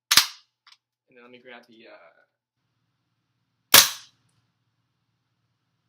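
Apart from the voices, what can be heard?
WE Apache MP5 gas blowback airsoft gun firing BBs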